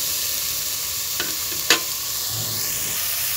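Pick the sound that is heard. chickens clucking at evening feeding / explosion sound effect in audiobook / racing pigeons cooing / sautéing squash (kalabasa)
sautéing squash (kalabasa)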